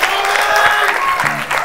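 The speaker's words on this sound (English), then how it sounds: "round of applause for Cody and Tim" A late-night show studio audience applauding for Cody and Tim: loud, dense, continuous clapping with a few voices and whoops mixed in.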